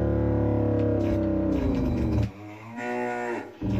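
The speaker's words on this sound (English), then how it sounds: "I'm going to try to hit this cow and get the unmistakable noise" A cartoonish cow moo from a 16-bit Super Nintendo shooter, triggered when the cow is hit: one loud, drawn-out, pitch-bending call that breaks into a second shorter moo, clear and up front with no talking over it.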